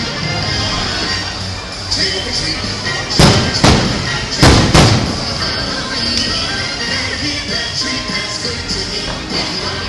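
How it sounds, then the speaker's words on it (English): Fireworks burst over the Disney World castle: a few sharp, heavy booms in quick pairs stand out against a steady crowd murmur, with scattered thuds and faint voices nearby. "More fireworks."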